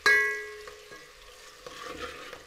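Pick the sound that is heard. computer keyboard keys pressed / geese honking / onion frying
onion frying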